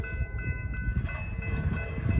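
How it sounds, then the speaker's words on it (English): A southbound freight train rolls past, a continuous heavy rumble of wheels and cars with steady ringing tones over it, close and loud, with no voices. "We got another train coming too."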